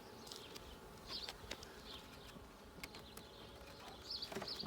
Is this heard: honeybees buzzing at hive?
yes